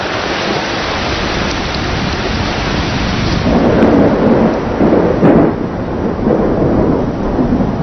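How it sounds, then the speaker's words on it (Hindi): A thunderstorm brings rain back to a wild landscape after a long dry season: heavy steady rainfall hisses throughout while rolling thunder swells louder in the middle, then eases. "7 महीनों बाद बारिश फिर लौट आई है।"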